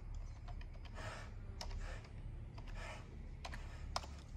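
Computer keyboard keys tapped in short clustered bursts with scattered single clicks, fairly close, over a steady low room hum, with no voices.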